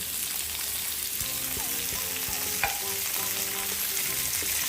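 Tomatoes fry with panikoorka leaves in a pan for rasam, giving a steady close sizzle with frequent clinks and scrapes of a spoon stirring against the metal, no voices.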